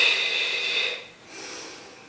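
A person breathes during a Pilates exercise: a long, airy exhale, then a brief pause and a softer inhale, close and quiet with no talking.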